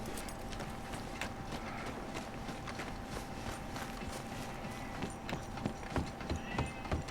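Horse hooves pound at a gallop in Red Dead Redemption 2, a dense, fast stream of hoofbeats over rumbling outdoor ambience, growing punchier toward the end.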